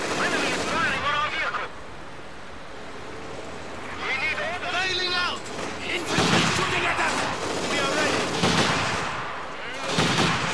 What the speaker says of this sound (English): Enemy is firing on our vehicle.